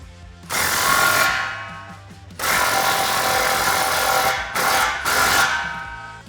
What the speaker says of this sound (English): we'll tighten that down with a 15mm socket